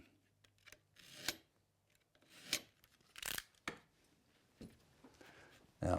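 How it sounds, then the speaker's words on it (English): A utility knife is drawn through material while building a cigar box guitar, making several short, faint rasping strokes with quiet gaps between them. "Then I'll use a utility knife, slice through"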